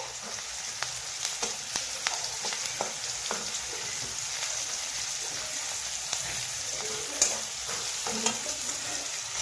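Curry leaves fry and are stirred in a pan for poha, a soft continuous sizzle scattered with small pops and spatters, fairly faint and steady throughout.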